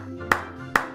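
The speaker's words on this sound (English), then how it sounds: "You clap your hands and it makes a sound." Hands clapping twice, two sharp, close claps evenly spaced about half a second apart over faint background tone.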